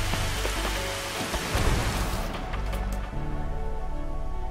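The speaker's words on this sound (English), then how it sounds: "It is raining." Rain pouring steadily in the Final Fantasy XV Platinum Demo video game, a dense, loud wash of falling drops with low rumbling game ambience underneath and no voices.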